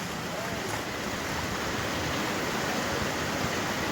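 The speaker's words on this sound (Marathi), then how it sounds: "हाच नाल्याचं पाणी आता वर यायला सुरुवात झालं होते मगाशी ऑलरेडी आता वर आलेलं आहे" Rising drain water rushing during heavy monsoon rain, a dense, unbroken roar of flowing water and downpour, loud and close, constant throughout with no breaks.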